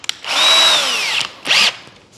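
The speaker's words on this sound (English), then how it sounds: "I wonder if I could take a small drill bit and control it enough to actually open up a small little bit of pocket" Small 3/16 inch drill bit boring into a part of a 1.6 m Fi 186 Storch model plane, two bursts of high whining drilling, the first longer, the second short, close and loud with no talk.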